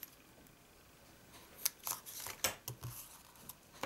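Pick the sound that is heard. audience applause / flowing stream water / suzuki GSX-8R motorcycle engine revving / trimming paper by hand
trimming paper by hand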